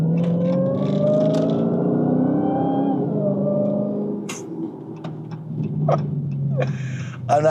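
A 2021 Dodge Charger SRT Hellcat Wide Body sedan accelerates with a deep, loud exhaust rumble that climbs in pitch and then eases off, followed by lighter clicks and engine hum.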